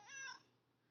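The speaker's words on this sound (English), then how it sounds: "there's a cat meowing in the background" A cat meows once indoors in the background, a faint, brief, high drawn-out cry that fades into quiet room tone.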